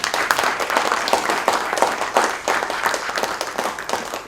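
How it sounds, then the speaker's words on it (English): A seated audience applauds steadily at the close of a film screening and talk about Qawwali music, with dense, sustained clapping throughout and no voices heard over it. "So another round of applause for Shazia, please."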